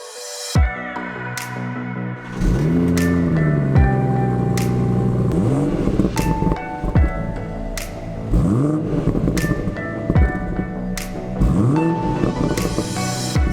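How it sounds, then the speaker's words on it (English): A BMW M140i on its standard exhaust revs repeatedly, each blip rising and falling in pitch, about half a dozen throttle stabs spaced a second or two apart, loud and close with no talking. "the standard exhaust actually sounds pretty good on this car"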